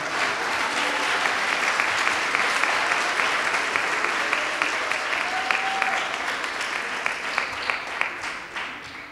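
A church chapel congregation claps for the Lord in a steady, dense round of hand clapping, loud and close, sustained for several seconds with only a faint voice underneath.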